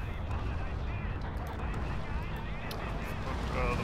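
A constant battlefield rumble of gunfire and distant explosions from the World War II shooter Forgotten Hope 2 on the Seelow Heights map, steady throughout with a few sharper cracks, while people talk over it.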